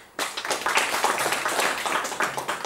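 Steady applause from a crowd at a pistol shooting match, many hands clapping in a dense, continuous patter that starts abruptly and holds at an even level.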